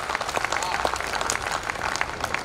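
An audience applauds at a Hindi poetry recital, with dense, steady clapping that fills the whole moment without pause.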